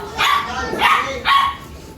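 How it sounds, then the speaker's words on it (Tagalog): Three sharp dog barks spaced roughly half a second apart, fairly close and loud, outdoors during a New Year event, with no talk between them. "Malapit na yung aso."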